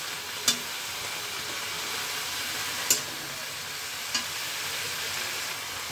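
Mustard greens sizzle and fry in a pan with a steady, close hiss. Three sharp clacks from the stirring utensil break through the frying, spaced a couple of seconds apart.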